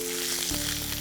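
Ginger being stirred and sautéed in a pan for Gujarati dal, a brief loud close sizzle with a scrape of stirring, steady over about a second with no voices.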